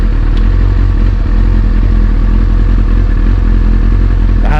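A carbureted motorcycle engine runs loud and close after a cold start, throttle held slightly open, with a rough, pulsing idle and some mechanical clatter that goes on without a break.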